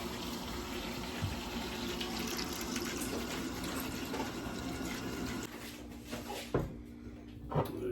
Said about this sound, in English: I'm just adding some water to the pot.